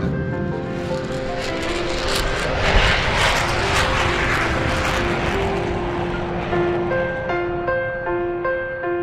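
Engines of a Bristol-built airplane drone loudly and steadily at close range, a sustained roar with tonal hum that swells mid-way and stays constant without speech.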